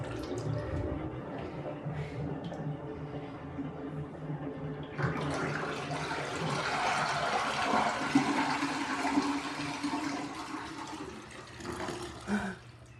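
Water rushes and gurgles steadily down a newly installed shower drain in a remodeled bathroom, the flow growing louder and fuller partway through, then easing, with a few drips and bumps.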